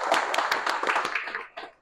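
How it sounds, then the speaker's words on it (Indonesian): Brief classroom applause for a student, a quick patter of several people clapping close by that tapers off after under two seconds. "Kita beri aplaus untuk Syahrul."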